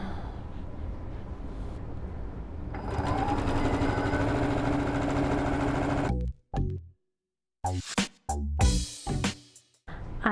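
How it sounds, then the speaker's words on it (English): A sewing machine chain-pieces fabric squares for a rag quilt, its motor whirring in a fast steady rattle for several seconds, then stopping and restarting in short bursts with pauses between. "Let the chain piecing begin."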